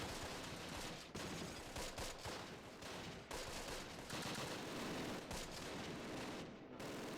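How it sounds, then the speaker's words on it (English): An anti-infantry gun fires during a night battle in the Close Combat war game, with loud continuous gunfire and bursts of rattling shots filling the scene; no speech. "I have to micromanage this damn anti-infantry gun though."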